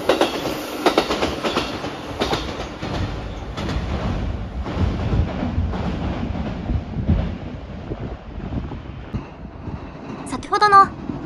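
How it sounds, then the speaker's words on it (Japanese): An Iida Line down train runs through Toyohashi station without stopping, a sustained clickety-clack of wheels over rail joints rising and fading over several seconds, with wind buffeting and a short high-pitched squeal near the end. "先ほどの飯田線上り列車に続いて下り列車も通過していきます。"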